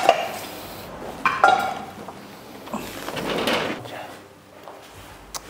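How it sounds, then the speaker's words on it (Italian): Someone struggles with a stuck door in an abandoned villa: a series of knocks, rattles and scraping bumps, with a louder rough grinding push in the middle, heard close by. "Non si aprono neanche le porte qua."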